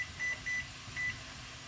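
A microwave oven timer sounds three short, faint electronic beeps in an even rhythm while skillet apples cook, with a steady low room hum underneath.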